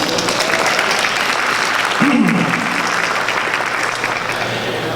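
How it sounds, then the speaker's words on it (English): A crowd at a Lunar New Year opening ceremony applauds the Asia Pacific Cultural Center in Tacoma with steady, loud clapping that holds throughout, while a brief voice sounds partway through. "So let's give a round of applause for them."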